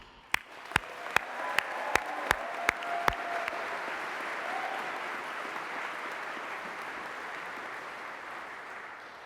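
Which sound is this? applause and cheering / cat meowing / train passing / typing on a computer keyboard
applause and cheering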